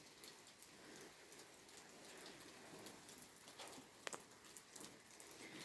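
Soft, steady rain patters on surfaces at night, with scattered individual drops tapping close by, faint and calm with no voices.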